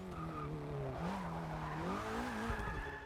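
A Porsche 944 Turbo in Forza Motorsport 6 drifts with a steady, loud, wavering tire squeal over engine drone that lasts the whole stretch, without a break.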